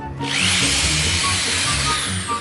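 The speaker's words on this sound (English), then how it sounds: "Let's just drill it and then put the thing" Power drill running steadily at high speed, driving into a refrigerator to mount skateboard trucks; a loud, continuous whine held for the whole stretch with no talking.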